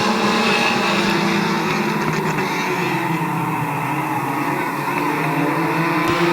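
Compact race cars roar around the Midvale Speedway oval in a 2013 race, a steady loud engine drone with layered harmonic whine as the pack runs down the backstretch, with faint voices under the noise.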